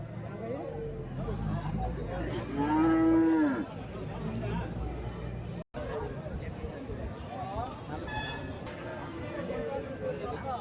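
Cattle moo loudly at a busy Sunday livestock market in Santhipuram where cows and sheep are traded, one long low call standing out over steady crowd chatter and background hubbub.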